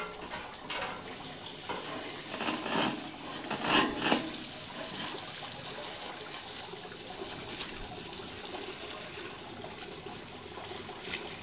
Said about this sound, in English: Water running here,